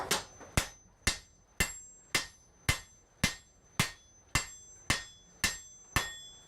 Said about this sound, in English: First hammer swings of the day.